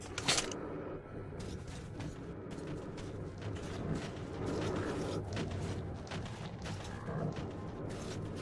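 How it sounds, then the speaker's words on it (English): Weapon reloading in Metro Last Light, mechanical clicks and creaks of the gun mechanism over a dense, continuous bed of game ambience, with a few sharper transients standing out near the start. "I'm gonna reload before I continue."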